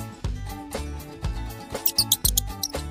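Several quick high squeaks like a mouse chirp in short bursts over a lively music track.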